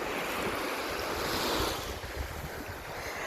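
Ocean waves wash onto the beach at Saint-Jean-de-Monts in a steady, broad roar of surf, with wind buffeting the microphone and a gentle swell and fade, no voices.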